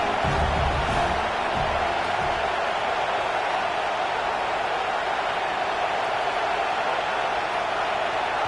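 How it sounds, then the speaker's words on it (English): Football stadium crowd cheering during a USC game as the defense sits in the red zone, a dense, loud, hissing roar of noise holding steady from start to finish. "the crowd coming to life here, trying to help this defense down in the red zone"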